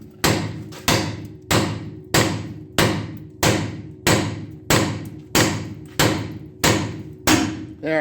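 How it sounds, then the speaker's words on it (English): Hammer blows on the ball joints of a 1976 Dodge D100 front end, thirteen loud, evenly spaced metallic strikes about every 0.6 seconds, each ringing briefly before the next. "we can get these ball joints busted free"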